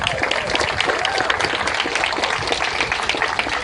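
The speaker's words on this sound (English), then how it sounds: "How about a nice round of applause for them?" A crowd at an Alzheimer's walk remembrance ceremony claps in a dense, steady burst of applause that stays fairly loud and continuous from start to finish.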